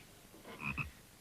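A frog gives a brief, low double croak, two short throaty pulses close together, faint against a quiet room background.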